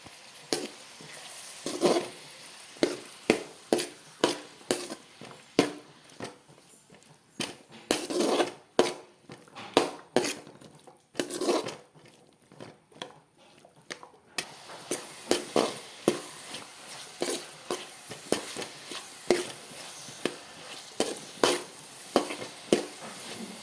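Vegetables and tomato fry in a pan, a steady sizzle broken by many sharp scraping strokes of a spatula stirring close up, repeating irregularly throughout.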